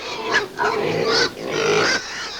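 A pig grunts and snorts up close in three loud, rough bursts with short pauses between them.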